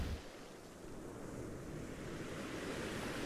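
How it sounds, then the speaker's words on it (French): Steady ocean surf washes over a sandy shore as a broad, even hiss of breaking water, soft and continuous, with no voices. "une vague vient lécher vos pieds. Vous pénétrez dans l'océan."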